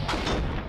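A single loud, booming gunshot from Fallout 3 / New Vegas fills a brief moment with a dense, broad blast.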